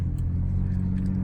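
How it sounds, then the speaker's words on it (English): Road traffic heard from a vehicle on the move, a steady, dense low engine and tire rumble that stays loud and even throughout without any voices. "Traffic."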